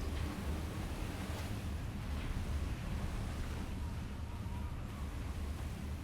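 Waves from the Silent Hunter 4 naval game, a sinking medium tanker's bow bobbing above the water, wash in a steady, broad surf noise with wind rumble, continuous and moderately loud, no voices.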